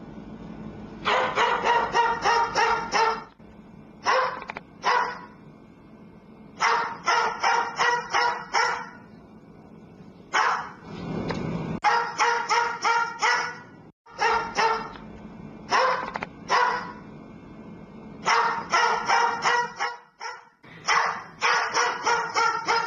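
A parrot imitates a dog's barking, with bursts of loud, convincing bow-wow barks and yips separated by short pauses, close and clear, with no talking.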